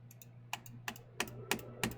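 Computer mouse button clicked on a quiet desk, with a handful of light, crisp clicks in an irregular cluster over about two seconds, faint and close.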